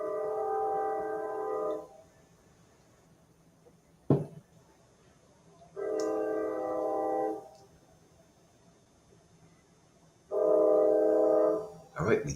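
A train horn gives three long, steady blasts separated by quiet gaps of several seconds. The sound is moderately loud, with a few sharp clicks between the blasts.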